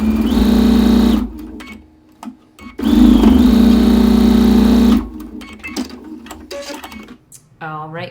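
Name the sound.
sewing machine stitching two rows of a quilt block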